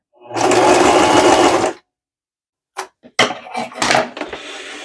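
A sewing machine stitching a heart-shaped zipper pouch whirs in one steady, close burst of about a second and a half, followed by silence and then short clicks and handling noises as the fabric is adjusted.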